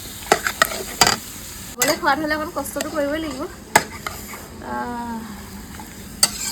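Chicken frying in a large kadai while being stirred, with loud, irregular scraping strokes and sharp clacks over a steady sizzle; someone talks over the cooking between strokes.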